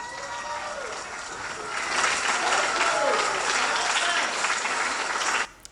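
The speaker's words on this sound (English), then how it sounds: "You hear that crowd, a bunch of white liberals clapping for her" Crowd applause for Lori Lightfoot after her Chicago mayoral concession speech, sustained clapping that swells louder midway and cuts off abruptly at the end, with voices faintly mixed in.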